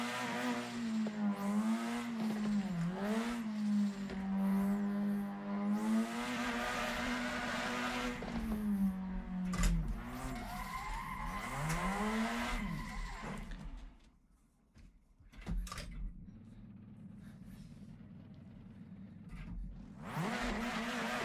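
A car drifting with the handbrake, engine droning and revving at a steady wavering pitch while the tires skid, then the note drops away briefly before the engine picks up again, loud and close.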